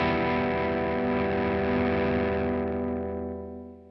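Electric guitar played through an amp with its gain set by the guitar's volume knob: one sustained, distorted chord ringing loud and rich, then fading out over the last second, with no talk.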